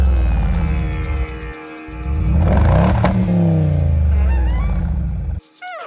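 A supercharged 4.2-litre V8 in a Jaguar XKR, rated at 390 horsepower, revs hard and close, its loud engine note rising and falling through several pulls before cutting off abruptly near the end.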